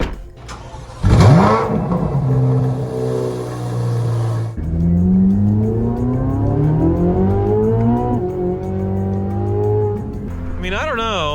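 A 2023 Corvette Z06 on a test drive, its engine starting and then revving hard with rising, whining pulls through the gears, loud and close from inside the car, with a voice heard briefly over it.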